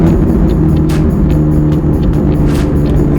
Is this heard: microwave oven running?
no